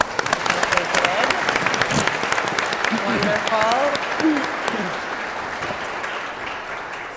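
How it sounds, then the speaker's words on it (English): Audience applause for a band's performance at a Michigan Supreme Court community program in a school hall, a dense, sustained clapping wash lasting throughout, with a speaker's voice talking over it and gradually tapering. "Let's give them another round of applause."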